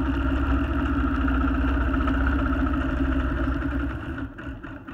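A BERNINA sewing machine stitches parallel quilting lines in ruler work, making a steady, close motor hum with a fast rhythmic needle clatter. It runs for about four seconds, then stops.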